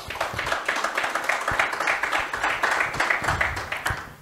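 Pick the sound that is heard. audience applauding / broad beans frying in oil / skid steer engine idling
audience applauding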